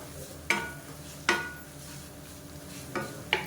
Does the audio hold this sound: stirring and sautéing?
yes